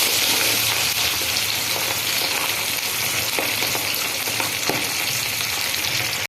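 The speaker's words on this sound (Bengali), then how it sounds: "প্রথমে ইলিশ মাছগুলো আমি দিয়ে দিলাম কড়াইয়ের মধ্যে" Hilsa fish pieces frying in hot oil in a wok, a steady dense sizzle running loud and close throughout, with faint stirring clicks underneath and no talking.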